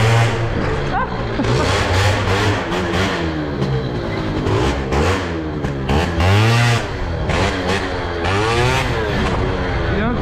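A moped engine revs loudly and close, rising and falling in repeated throttle sweeps with a buzzy, strained tone, while a voice talks over it.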